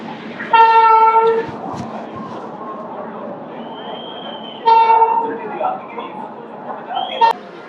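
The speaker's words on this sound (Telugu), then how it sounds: "కాచిగూడ నుంచి మన ట్రైన్ అయితే స్టార్ట్ అయిపోయింది" The 12862 Mahbubnagar–Visakhapatnam Superfast Express, hauled by a WAP-7 locomotive, pulls out of Kacheguda station with two long horn blasts over a low rolling rumble, with people talking throughout.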